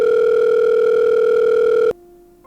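A loud, steady electronic mobile phone ringback tone hums for about two seconds, then cuts off abruptly to a faint lingering tone.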